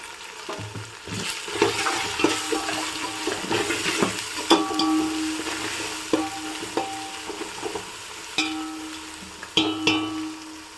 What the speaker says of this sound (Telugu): ఫ్రై అయిపోయింది కదా అల్లం వెల్లుల్లి పేస్ట్. ఇప్పుడు పసుపు వేసుకుందాము.